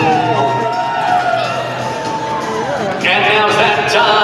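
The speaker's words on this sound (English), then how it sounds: "we're going to need all of you to make some noise for your favorites. Cheer them on" A fair crowd cheers and whoops for racing ponies at the Royal Agricultural Winter Fair, a steady roar with an announcer talking over it and a louder swell of cheering toward the end.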